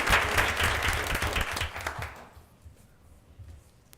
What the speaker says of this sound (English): Let's give all of our custodians a big round of applause